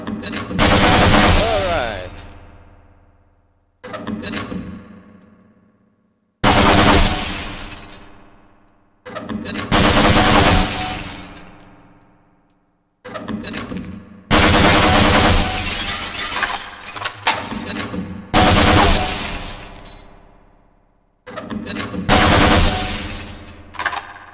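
Bursts of gunfire and shattering targets at the Black Mesa target range in Half-Life, loud repeated volleys each ringing out and decaying, separated by short pauses across the stretch.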